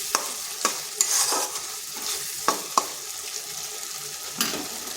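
Masala being sautéed in a pan for doi katla fish curry: a soft continuous sizzle with sharp intermittent scrapes and taps of a spatula against the pan, close and moderately quiet.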